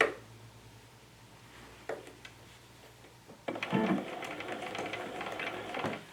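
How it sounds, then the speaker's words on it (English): A sewing machine runs in short bursts while stitching a jacket seam, locking the stitches by going forward and back, with a close, rapid mechanical whirr and clatter and brief pauses between runs. "Now as I start this, I am going to lock these stitches."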